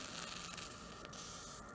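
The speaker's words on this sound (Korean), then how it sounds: "라이덴프로스트 효과가 일어나면서 물방울에는 치익 하는 소리가 납니다." Water droplets dropped onto a very hot copper plate give a continuous broadband sizzling hiss, fairly faint and steady, with a brief sharper crackle partway through.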